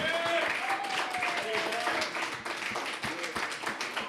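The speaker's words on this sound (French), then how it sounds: "Alors applaudissez-la! Applaudissez-la!" An audience in a bar applauding a staff member, a crowd clapping at moderate distance under a voice speaking over it.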